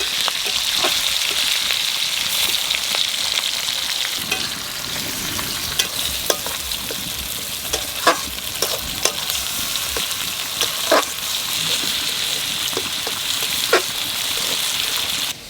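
Hilsa fish frying in mustard oil in a pan: a loud, continuous crackling sizzle, broken by scattered clicks and scrapes of a spatula, with no one talking.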